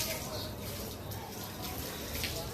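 Steady rushing water pours continuously while someone is bathed, a close, even splashing wash with no clear breaks.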